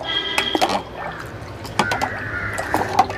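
Sugar syrup is poured into a jelly fruit cake mixture, giving a close, steady liquid pour with small splashes and drips over about three seconds.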